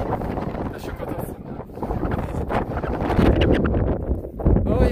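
Strong wind on the summit of Pikes Peak roars and buffets the microphone in a loud, continuous rush that surges and dips over several seconds.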